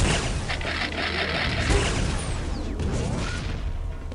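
Weapon fire from a Quake Live grand final match, with booming, whooshing shots and crashing impacts in dense game noise, no talk.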